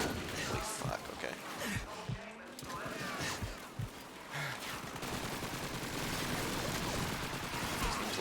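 Sustained MG-42 machine gun fire in Call of Duty 2, dense overlapping bursts of shots with crashes and battlefield noise, loud and continuous throughout, with some voices mixed in.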